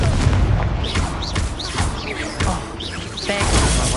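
Fiery Confringo blasting spell going off in the Hogwarts Legacy video game, loud continuous booming blasts with crackling whooshes throughout amid dense battle noise.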